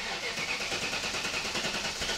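A BMW E39 M5 wagon engine cranks after priming and catches, settling into a steady, close mid-pitched running rumble with no talking.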